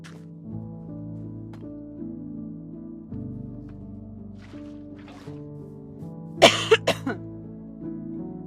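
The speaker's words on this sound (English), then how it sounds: "I still got a little bit of a cough." A short cluster of three or four close coughs rises over steady, quiet Minecraft game music, loud and near for about a second before the music carries on alone.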